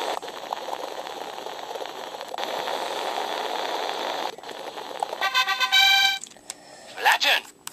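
Cartoonish game sound for the boiling step in Iron Chef America DS, a steady bubbling hiss that runs for several seconds, then gives way to bright electronic chime jingles near the end.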